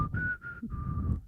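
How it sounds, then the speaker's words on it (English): A person whistles a short tune of three clear sustained notes, close and fairly quiet, with no talking. "Can you whistle?"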